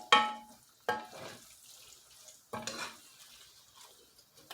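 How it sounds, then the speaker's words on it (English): A spoon scrapes and knocks against a pan while meat is stirred, giving three sharp clattering bursts separated by quieter scraping, close and fairly soft, with no voices. "We're just gonna keep just stirring it to get as, so it doesn't overcook"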